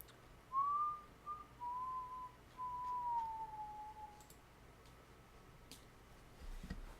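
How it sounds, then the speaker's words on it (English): Whistling rises faintly behind a Hearthstone Arena livestream: three thin, gliding whistle tones in a row, each sliding slightly downward, with no talk over them. "What is that whistling noise I'm hearing?"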